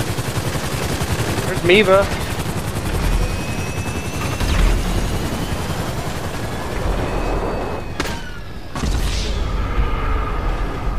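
Gunfire breaks out during an aircraft fight in the video game GTA Online, as a few loud cracks cut through a constant droning engine and rotor roar, and a player speaks briefly.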